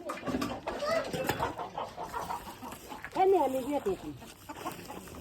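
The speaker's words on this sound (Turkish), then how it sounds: "Tavukları yemlerine koyduk." Chickens cluck and chirp in a busy yard while people talk nearby, with a brief louder burst of bird calls in the middle.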